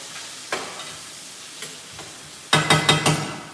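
Onions and peppers sautéing in a pan give a low, soft sizzle with occasional spoon taps, then a quick burst of four loud clacking stirs near the end, close up and without speech.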